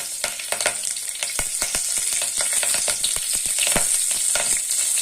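Mustard seeds and two or three sprigs of curry leaves sizzle and crackle in hot oil as tempering for ridge gourd chutney, with steady frying hiss dotted by rapid sharp pops, close and fairly loud, no talking.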